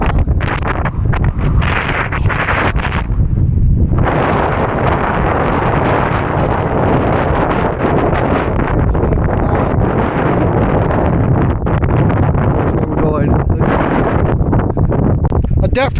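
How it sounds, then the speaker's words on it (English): Strong gusts on a hike in the Brecon Beacons batter the camera microphone with loud, continuous roaring buffeting, easing slightly for a moment before surging back and persisting. "Definitely should have brought my external microphone, but look how windy it is."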